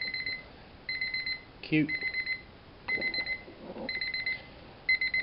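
A Mini Paddington Bear alarm clock with decorative bells gives a loud electronic beep alarm, repeated bursts of rapid high pips with short gaps, and a voice briefly speaks over it.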